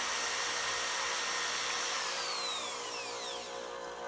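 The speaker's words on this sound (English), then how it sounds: "all I had to do was chuck each rod into my electric hand drill, and then I just touched it to the grinding wheel for a couple seconds" A magnet rod spun in an electric hand drill and pressed against a grinding wheel, a loud steady high-pitched whine with grinding hiss that drops in pitch as the drill slows near the end.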